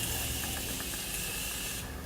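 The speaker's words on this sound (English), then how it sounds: "I'm just going to take some of my Morphe setting spray" Morphe setting spray is misted onto a face from close range, a steady airy hiss lasting about two seconds before it cuts off.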